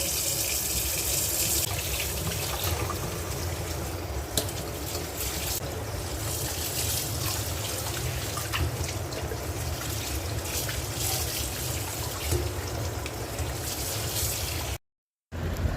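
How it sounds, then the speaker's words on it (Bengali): Fish (rohu, sarpunti and hilsa) washed at home under running water, a steady loud gushing stream with splashing and handling noises throughout, a brief gap near the end, no talking. "এখন মাছগুলো ধুয়ে নিচ্ছি।"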